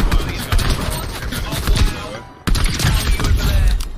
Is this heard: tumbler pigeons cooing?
no